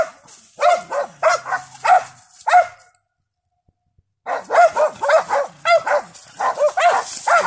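Dogs bark in quick, excited bursts during a night hunt, a pack yapping repeatedly, pausing briefly before the barking resumes just as intensely.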